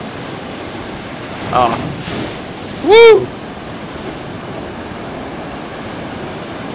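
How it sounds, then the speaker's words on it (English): Ocean waves wash steadily onto the shore at Scarborough as a constant broad roar, with a short exclamation and a whoop from a person over it. "Just you can hear nothing but the ocean."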